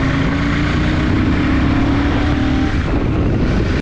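A Royal Enfield Super Meteor 650 motorcycle with its exhaust mesh removed pulls hard at speed, a loud, steady engine drone with exhaust rumble and rushing wind throughout.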